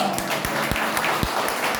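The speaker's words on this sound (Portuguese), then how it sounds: "Você pode aplaudir ao Senhor." Congregation applauding at a Holy Communion church service, a steady wash of clapping with a few sharper individual claps standing out, fairly close and even throughout.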